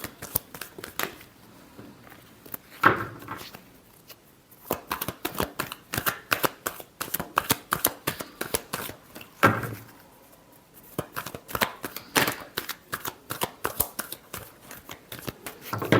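Tarot cards are shuffled close up in rapid riffling bursts of crisp paper flutter. Short pauses separate the runs, and no voices are heard.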